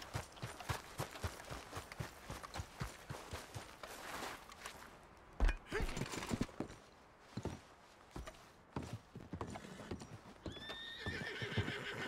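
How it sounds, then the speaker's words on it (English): Horse hooves clip-clop in a steady walking rhythm in Red Dead Redemption 2, close and clear, with a whinny rising near the end; faint game voices and effects sit in the background. "My horse follows me."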